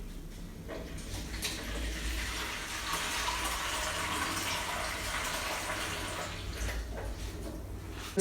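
Water runs from a kitchen tap in a steady, moderately loud rushing stream that continues for several seconds without talk.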